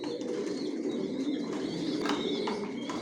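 Racing pigeons in a breeding loft coo continuously in soft, overlapping throaty calls, with a few faint chirps and rustles mixed in nearby.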